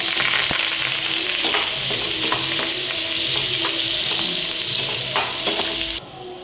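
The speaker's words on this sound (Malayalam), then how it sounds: "സവാള, പച്ചമുളക്, കറിവേപ്പില എണ്ണയിട്ട് വഴറ്റുക." Onion, green chilli and curry leaves sauté in hot oil with a steady loud sizzle and occasional stirring clicks, the frying continuing without pause until it drops off abruptly near the end.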